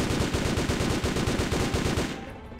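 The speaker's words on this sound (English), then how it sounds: "Back to the big gun." Heavy automatic gunfire in the PC game DRIV3R during an Istanbul train chase, a rapid, steady stream of loud shots hammering for about two seconds before cutting off into a fading tail.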